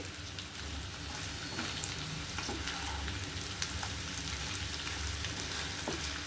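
Brains frying in hot oil in a pan after being parboiled in hot water, turned over as they cook; a steady, close, dense sizzle runs throughout with occasional stirring clicks and no speech.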